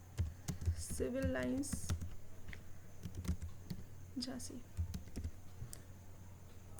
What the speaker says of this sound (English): I'm typing alphabets AS.